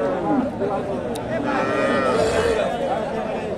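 Desi cows and young bull calves at a busy cattle market, with a low bovine moo rising over the steady din of crowd chatter and voices nearby.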